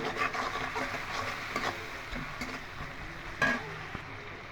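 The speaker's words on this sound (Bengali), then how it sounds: "চিংড়ি মাছ, পেঁয়াজ, রসুন, লঙ্কা একটু ভেজে নিয়েছে।" Shrimp sizzles in a pan with onion, garlic and green chili while being stirred, a steady close frying hiss with occasional scraping and clinks of a spoon against the pan, no talking.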